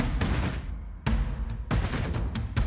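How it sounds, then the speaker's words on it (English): Orchestral drum loop run through a multiband transient shaper: booming low hits with sharp attacks in an uneven rhythm, several strikes with decaying rumbling tails, loud and alone. "Let's have a listen to what it sounds like when we put it on an orchestral drum loop"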